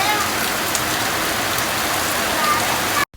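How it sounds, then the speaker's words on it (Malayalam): Heavy rain falls outside in a steady, dense broadband hiss that holds unbroken at a constant loudness before cutting off abruptly at the end. "പുറത്ത് നല്ല മഴ"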